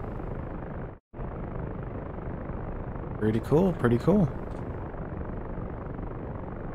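Steady rotor-like engine drone from helicopters overhead in the DCS World flight simulator fills the whole scene, with a brief dropout early on and someone talking briefly over it.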